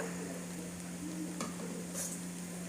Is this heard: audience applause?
no